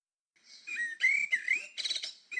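A Eurasian jay imitating a song thrush: bright, fluid whistled phrases in quick succession, rising and warbling like a thrush's song, with short pauses between bursts.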